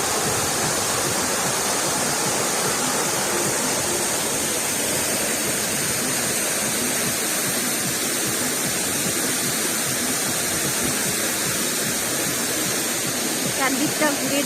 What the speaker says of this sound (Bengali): থেকে জল পড়ছে, অসাধারণ ভিউ।